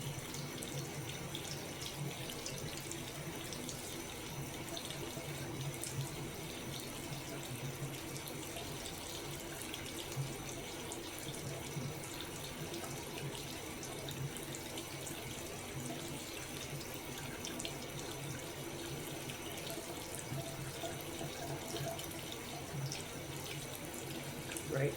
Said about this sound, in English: Now I'm going to turn the water off just for a little bit